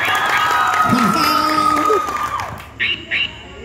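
Crowd at a second-anniversary show cheering and clapping, with shouts and children's voices mixed into a dense, steady roar that fades toward the end, then two short bursts of higher calls.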